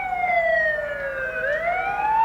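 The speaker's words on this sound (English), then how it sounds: "A lot of the children enjoy the sirens" A wailing police siren sweeps down and back up in pitch, loud and fairly close, over a low engine rumble of police motorcycles and cars leading a strawberry festival parade in West Tennessee.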